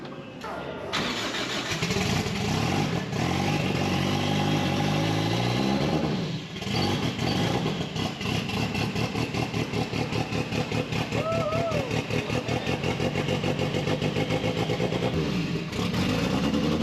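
A rebuilt race car engine cranks and fires at the track, then settles into a loud, close, rapidly pulsing idle with repeated revs, briefly dipping midway before picking up again, while people speak over it.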